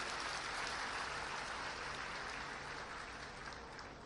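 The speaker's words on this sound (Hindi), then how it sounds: "तो गवर्नर साहब का भी ताली बजा के स्वागत करें" An audience at a training programme for newly appointed teachers at the Chief Minister's residence in Bhopal claps steadily to welcome the governor, a dense, continuous round of applause heard from a distance.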